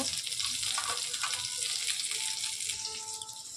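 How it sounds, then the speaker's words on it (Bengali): Lentil dumplings (bori) frying in hot mustard oil give a dense, hissing sizzle that stays steady and close throughout the short stretch, with no one speaking over it. "সরষের তেলটা গরম হয়ে গেলে তেলের মধ্যে বড়ি দিয়ে দিচ্ছি।"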